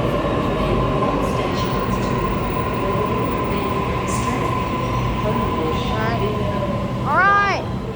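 Two Waratah B-set electric trains pull into a station at the same moment, a steady low rumble and hum with a constant tone, ending in a brief rising squeal of wheels or brakes near the close.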